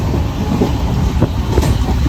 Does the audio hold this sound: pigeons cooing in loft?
no